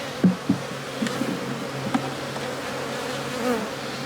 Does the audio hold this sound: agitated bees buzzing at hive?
yes